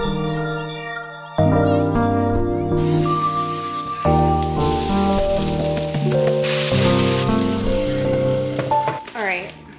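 Chopped vegetables sizzle and sauté in a hot pan, with clinks and scrapes of stirring over a bright, continuous hiss, fairly close and loud.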